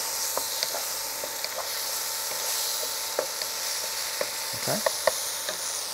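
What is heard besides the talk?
prawns with onions, tomato and garlic sizzling in pan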